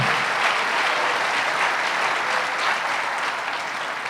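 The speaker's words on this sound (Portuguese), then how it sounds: "Pode aplaudir o Senhor bem forte." A church congregation applauds strongly during a cell-group training talk, a steady, dense roar of clapping from many people that holds for about four seconds before easing slightly.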